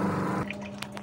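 Water sloshing in a tub while white clothes are hand-washed, a dense wet splashing that suddenly drops to a softer trickle with a few drips, close by, and no voices.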